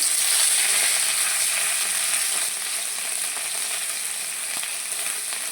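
Ground shrimp paste fries in hot oil in a wok, a loud, close, continuous sizzle that holds steady and eases slightly toward the end, with no talking.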